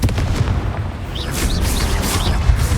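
Confringo fire spell bursting in combat in Hogwarts Legacy, a run of booming explosive hits with whooshing magical flares over continuous rumbling battle noise, fairly loud and close, no voice.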